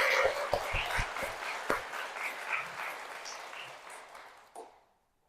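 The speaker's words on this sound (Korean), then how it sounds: "박수 한번 쳐주세요." Applause from an audience at a Catholic priest's talk, honouring the volunteers: a burst of crowd clapping with a few sharp individual claps near the start, thinning and fading out over several seconds into near silence.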